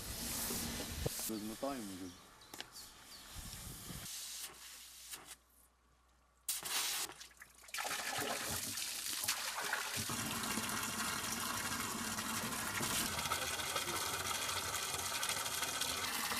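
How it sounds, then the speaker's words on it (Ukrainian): Well water from a 42-metre borehole gushes into a 10-litre bucket, a loud steady pouring rush that briefly cuts out and then resumes strongly, with people talking nearby. "літрів ведро набирається за 15 секунд"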